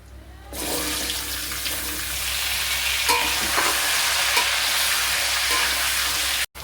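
Taro stolons hit hot oil already sizzling with panch phoron, dried red chilli and bay leaf, producing a loud, steady hiss that rises at once and holds throughout, with faint clinks of stirring before cutting off at the end.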